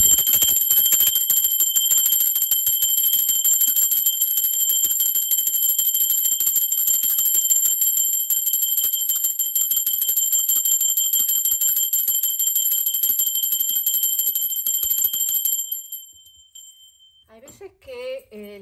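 A bell rings in a continuous, rapid metallic trill, bright and sustained like an alarm bell, lasting about fifteen seconds before stopping abruptly, followed by a few quieter sounds.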